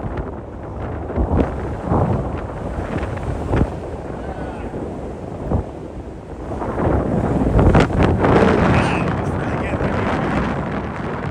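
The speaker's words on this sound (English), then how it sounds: "The wind is ridiculous." Strong gusts buffet the microphone outdoors on a walk from Lower Manhattan to DUMBO in New York, with steady roaring rumble that surges louder in the second half, and people talking faintly underneath.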